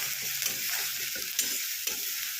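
Onions fry quietly in a pan, a soft continuous sizzle with a few light stirring scrapes breaking through.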